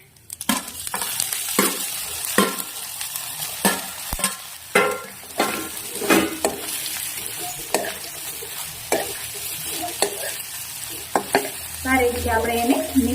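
Jowar muthiya dhokla pieces stirred into a hot asafoetida tempering, a continuous sizzle under repeated scraping strokes of a spoon against the pan, close and steady.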